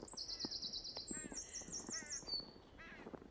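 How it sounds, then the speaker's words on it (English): Several birds calling outdoors in winter, with repeated harsh crow-like caws and higher chirping phrases overlapping at moderate distance. "And the birds."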